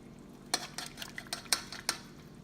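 A utensil stirs peanut butter into a pot of seafood kare kare, making about five sharp clinks against the pan in an uneven rhythm with soft scraping between them, close and fairly loud.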